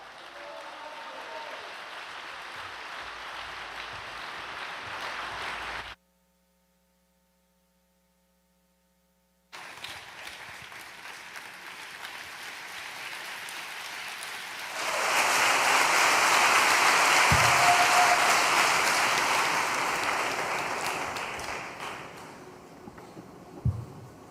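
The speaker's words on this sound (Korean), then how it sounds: "우리 엘리엇 오헤다를 큰 박수로 모시겠습니다." An audience at a church night-vigil gathering applauds to welcome Elliott Ojeda. Faint background noise and a short silent gap come first, then a full, steady wave of clapping swells, holds for several seconds and tapers off.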